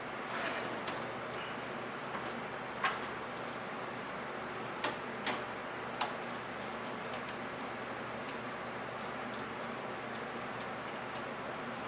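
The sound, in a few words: unscrewing the power supply screws inside a PC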